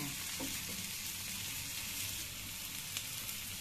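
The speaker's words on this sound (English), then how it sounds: "Now they are getting fried." A paste of chilies, onion and garlic fries in a pan, giving a steady, soft, close sizzle that runs without a break.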